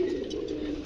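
A pair of Ghiya Chandan breed pigeons offered for sale coo once, a brief, soft, low purring call heard faintly at close range.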